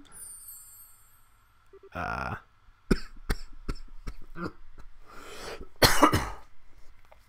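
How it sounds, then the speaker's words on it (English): A person coughs several times in sharp, separate bursts with short gaps between them, plus a longer harsh cough near the end, heard close against a quiet background with a little faint sound in between. "You gave me an excuse to cough without having cut it out."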